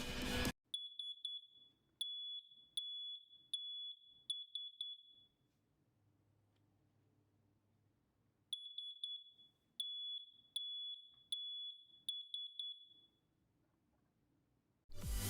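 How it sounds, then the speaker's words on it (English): A Zircon Leak Alert water leak detector, set off by a wet napkin, shrills in loud, piercing bursts of rapid beeps, falls silent for a few seconds, then starts again. "Now I'm going to trigger the alarm."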